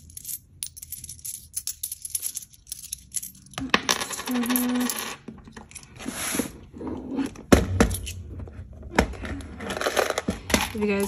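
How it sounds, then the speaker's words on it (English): Coins are taken out and dropped while stuffing cash envelopes, bursts of metallic clinks and jingles scattered among rustling and handling noise, with a person speaking intermittently in between. "I am going to take out whatever coins I have."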